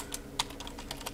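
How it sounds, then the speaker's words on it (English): Close, quick keystrokes on a computer keyboard as a search term is typed, an irregular run of crisp clicks with no speech. "just go to the search bar, and type in"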